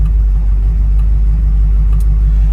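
A 1968 Chevrolet Camaro engine idles at a stoplight, a loud, steady low rumble close by with an even, unchanging throb.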